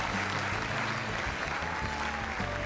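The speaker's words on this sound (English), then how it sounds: "applause breaks out of the room" Steady applause from a room audience in the video game Not for Broadcast, a dense continuous clapping that holds at an even level throughout.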